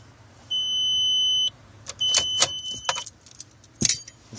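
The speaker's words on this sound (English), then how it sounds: "That thing will keep beeping if I leave the key in" Repeating electronic key-in warning chime from a car fitted with a 1.8T engine running MegaSquirt engine management, a steady tone about a second long followed by a cluster of short beeps and a few clicks and key jingles, close and alone.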